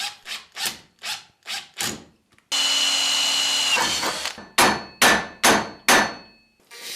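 Repeated hammer blows drive a T-nut into a cut piece of hardware on a homemade circular saw build, about a dozen sharp close strikes in two bursts around a stretch of steady power-tool whine, with no talking.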